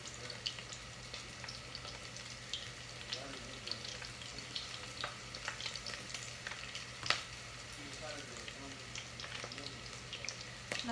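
Battered onion rings sizzle and crackle as they fry in hot oil in a pan, a continuous close hiss broken by sharp pops and small splashes as more rings go in.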